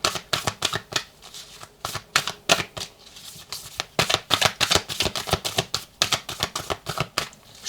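Oracle cards riffled and shuffled by hand, a rapid run of crisp, close papery flicks in uneven bursts with brief pauses, no voices.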